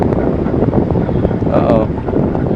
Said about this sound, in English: The wind's blowing us back pretty good though.